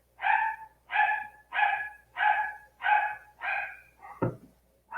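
Pet dogs bark repeatedly indoors, six or seven loud, evenly spaced barks in a steady rhythm, followed by a sharp thump and another bark starting.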